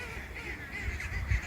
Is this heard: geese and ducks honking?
yes